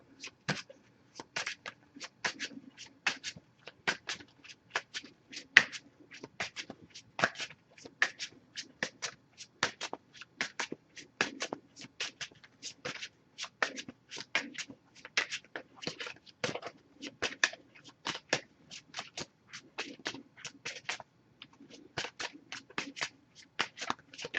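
An oracle card deck is shuffled by hand, giving a steady run of quick papery riffles and flicks that repeat close and clear over roughly twenty-four seconds, with no talking.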